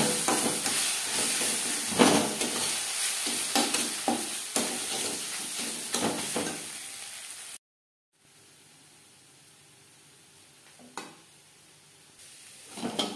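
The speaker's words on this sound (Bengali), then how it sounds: "ডিমের ভুজিয়া তৈরি করব।" Egg bhurji, Bengali-style scrambled eggs, sizzles and hisses steadily in a hot pan while a spatula scrapes and stirs in irregular strokes, then cuts off into a quieter stretch with faint clinks.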